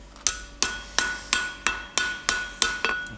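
Iron is hammered on an anvil while forging an eye hook: eight sharp ringing strikes at a steady, even rhythm, close and clear with nothing else audible.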